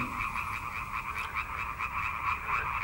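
Frogs croak steadily in a rhythmic chorus of repeated calls, moderately near and fairly quiet, with no speech.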